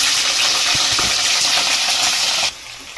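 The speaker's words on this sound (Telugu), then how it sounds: "శుభ్రంగా కడిగి పెట్టుకున్న చికెన్ ముక్కల్ని ఆయిల్ వేద్దాం" Washed chicken pieces drop into hot oil for a spicy chicken curry, producing a loud, dense, close sizzle that holds steady for a couple of seconds, then suddenly eases to a quieter hiss.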